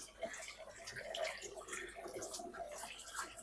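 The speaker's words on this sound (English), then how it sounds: "Water's going in." Water pours steadily into the sump of a newly set-up saltwater aquarium in a fish room, a continuous rushing splash at close range with no talking over it.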